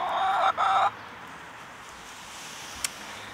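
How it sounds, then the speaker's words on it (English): Salmon Faverolles hens in a backyard coop, a brief pair of loud, close clucks followed by quiet outdoor background and a faint short chirp. "the salmon Favreaus have been very vocal since they started laying eggs"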